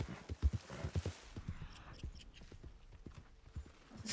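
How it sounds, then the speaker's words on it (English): Horse hooves clip-clopping in the Red Dead Redemption 2 Online game, a quiet, steady run of distinct hoof thuds in an uneven gait, with a soft breath or whinny near the start. "Come on, pony!"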